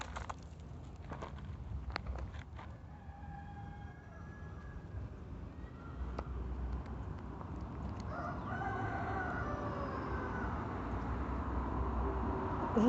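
Bantam rooster crowing and clucking outdoors, a few short crow-like calls over steady rustling background noise, moderately near.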